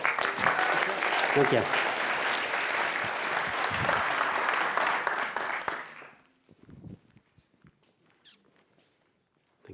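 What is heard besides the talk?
audience applauding the first pitcher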